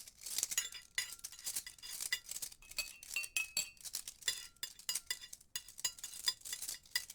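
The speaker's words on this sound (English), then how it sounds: "you roll those around in your hand, and you just more frequently make scraping sounds on the plate and more frequently make sounds with the glass" Restaurant foley of silverware scraping against plates and glasses clinking, built from hand-rolled props into a steady, busy patter of small metallic taps and chimes with no voices.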